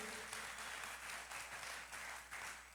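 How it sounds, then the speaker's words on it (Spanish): Church congregation clapping to welcome first-time visitors, a soft, distant, steady patter of many hands with faint pulses, no voices standing out. "quiero que le demos un aplauso a los que hoy nos están visitando por primera vez"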